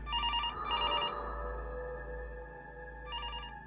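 A telephone bell rings in three bursts, two close together at the start and one more after a pause, over a steady low hum with no voices.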